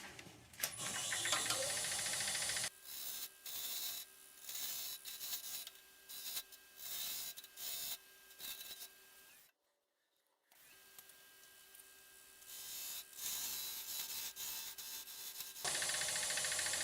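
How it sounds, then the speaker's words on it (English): A small scraper finishes an end-grain macadamia lidded box on a wood lathe: quiet, rhythmic bursts of scraping over a low motor whir, with a brief near-silent pause midway. "So I have a very small scraper, and I'm just going to finish it off with that."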